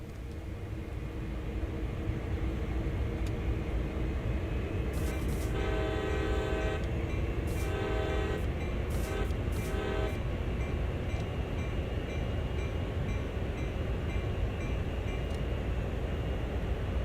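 A locomotive in the Train Sim World game rumbles steadily throughout with a loud, continuous engine drone, while a series of horn blasts sounds in short bursts over it partway through.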